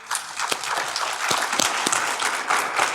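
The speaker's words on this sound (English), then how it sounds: "Clap it up one more time for Miss Yvette Jones with HCA." An audience applauds a speaker at a county workforce development summit, a lively spread of clapping with a few sharp, close claps standing out.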